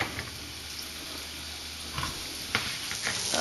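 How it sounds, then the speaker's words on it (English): Flour-coated meat browning in a little olive oil in a pan, a steady low sizzle with soft scattered crackles and a few scraping stir sounds, no talking. "All you're doing is you're just browning it in a little bit of olive oil"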